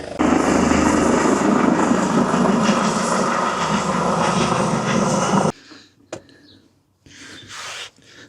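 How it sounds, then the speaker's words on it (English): An ambulance helicopter landing in a field, its loud rotor and engine roar steady and dense, then cut off abruptly, leaving near quiet with a few faint knocks. "we have a helicopter landing in the field behind us. It's an ambulance helicopter"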